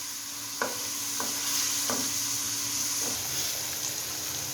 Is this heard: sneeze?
no